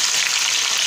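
Tomato hitting a pan of sautéing bitter gourd sets off a loud, steady sizzle of frying that fills the whole short moment with no voices over it.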